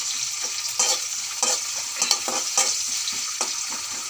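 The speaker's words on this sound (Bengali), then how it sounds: "এখন আমি পেঁয়াজগুলো নাড়িয়ে দেব।" Onions stirred and frying in a pan for a chicken skin and potato dish, with a steady sizzle and repeated scraping strokes of a spoon across the pan, close and fairly loud, no voices.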